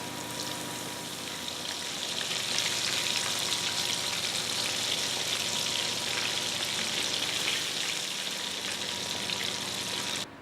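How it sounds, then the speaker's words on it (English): Oil sizzles loudly and continuously as chicken pieces go through their first frying close by, a steady crackling hiss with faint occasional pops. "I've finished the initial frying of the chicken"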